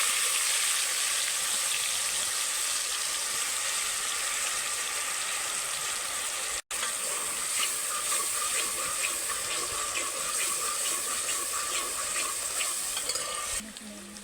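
Cumin and onion paste sizzle steadily in hot oil, a continuous close frying hiss with faint stirring that runs almost unbroken throughout, interrupted only by a brief cut near the middle.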